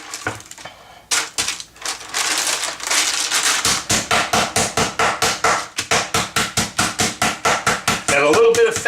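Pork slices for braciole being pounded flat with a mallet, a long run of loud, close, evenly spaced thuds, steady and rhythmic, after a few irregular hits at the start.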